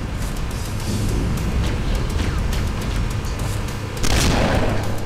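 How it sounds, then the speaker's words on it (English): A large explosion in the Halo video game, heard as a dense, continuous roaring rumble that swells louder in its final second. "The explosion will generate a temperature of almost 100 million degrees. Don't be here when it blows."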